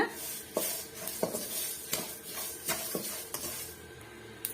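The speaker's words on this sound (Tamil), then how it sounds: "நம்ம சேர்த்து இருக்கிற கடுகு எல்லாமே நல்லா பொறிஞ்சு வருது பாருங்க" Mustard seeds and curry leaves dry roast without oil in a pan, giving off a soft crackle and sizzle punctuated by sharp, spaced clinks and scrapes of a utensil stirring against the metal, close and quiet, with no voices.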